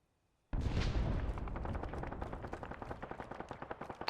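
A breaching charge in a military video game explodes with a sharp, loud blast after near silence, then a long rumbling tail of crackling debris and echoing pops that slowly fades.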